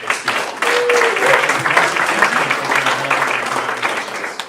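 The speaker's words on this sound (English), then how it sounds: "How about another round of applause" A crowd applauds steadily, a dense wash of clapping that holds for several seconds, with a faint voice briefly audible.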